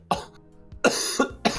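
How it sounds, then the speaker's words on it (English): A person who has been feeling sick gives a quick run of dry, harsh coughs, three bursts in about a second and a half, close to the microphone. "I've been like sick-ish lately, so I just be coughing."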